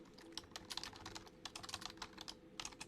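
Someone types on a computer keyboard in quick, uneven bursts of crisp key clicks, with short pauses between runs, close by in a quiet room and without any talking.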